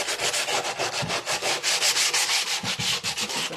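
Rapid back-and-forth sanding strokes rasp against the edges of milk-painted thrift-store furniture to distress the finish, loud, close and rhythmic with no talking.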